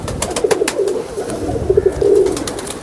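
Pigeons kept in pairs in a loft during winter coo softly and repeatedly nearby, in short throaty bursts over faint background noise.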